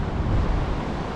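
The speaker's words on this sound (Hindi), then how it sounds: "पानी का प्रेशर भी तो बहुत तेज हो गया है" A fast-flowing glacier meltwater river in the Himalayas rushes in a dense, steady roar, loud and close, with constant low churning and no voices.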